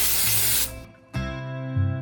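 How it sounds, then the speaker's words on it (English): IGK Direct Flight dry shampoo is sprayed underneath flipped hair in two close, loud hissing bursts separated by a brief pause. "I'm gonna flip my hair and spray underneath"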